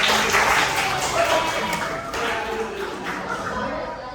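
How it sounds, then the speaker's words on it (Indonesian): A school class applauding together, a dense burst of hand clapping that fades gradually over a few seconds. "oke, tepuk tangan dulu."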